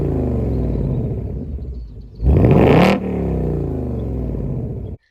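A 2024 Ford Mustang GT with the 5.0 V8 and dual exhaust gives a single sharp, loud rev, a brief rising roar that drops back to a deep idle rumble before the engine shuts off.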